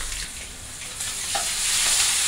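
Loud, steady sizzling of food frying in hot oil, close up, with a few light stirring scrapes.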